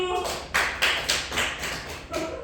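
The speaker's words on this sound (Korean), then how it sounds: "정답 박수" A handful of separate, sharp hand claps reward a correct quiz answer, about five distinct bursts spaced unevenly and close by, with brief voices just before and after.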